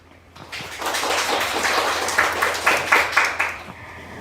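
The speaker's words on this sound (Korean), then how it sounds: "큰 박수 부탁드립니다." Audience applause at a marketing training course's final presentation session, clapping building from a quiet start into a steady wash of many hands, with several louder bursts near the end.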